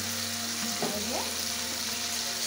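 Pumpkin pieces go into a frying pan of cooked Malabar spinach greens and potato, giving a steady close sizzle with a brief stirring clatter partway through; no one speaks.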